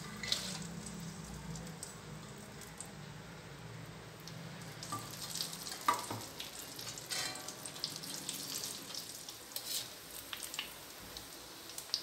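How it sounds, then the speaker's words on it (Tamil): Cashew nuts frying in oil for a homemade crunchy mixture snack, a faint, low, steady sizzle with small crackles and a few soft ladle touches. "அடுத்தது முந்திரி பருப்பு எண்ணெயில் வறுத்து சேர்த்துக்கலாம்"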